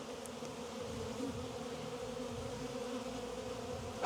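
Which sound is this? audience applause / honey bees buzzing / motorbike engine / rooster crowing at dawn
honey bees buzzing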